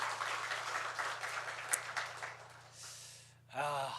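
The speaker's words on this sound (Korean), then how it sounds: "우리 하나님께 영광의 박수 올려드리겠습니다." A church congregation at a Sunday worship service breaks into applause, a moderate wash of clapping that swells and then fades, followed by a brief murmur of voices.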